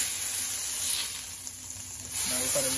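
Shrimp and salmon sautéing in butter in a pan over low heat, a steady close hiss of sizzling fat running throughout, with a faint clink near the end.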